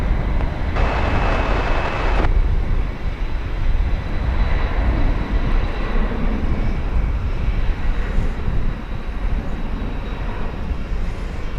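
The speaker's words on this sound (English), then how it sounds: "So there it is, a new, as of this year, Boeing 767 freighter on its way to Louisville." A Boeing 767 freighter departs DFW airport with a loud, continuous broadband jet roar that fills the whole stretch, steady and powerful throughout, with a brief brighter burst of noise early on.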